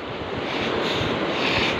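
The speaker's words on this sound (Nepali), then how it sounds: "अहिले चाहिँ छिमछिम छिमछिम पानी परिरह" Light drizzling rain falls beside a swollen muddy river, making a steady, even hiss that stays constant with no voices.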